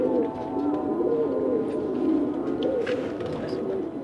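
Qasid and Rangeen pigeons resting in their numbered loft coo in low, repeated warbling phrases that overlap steadily, with a few faint scuffles and taps behind them.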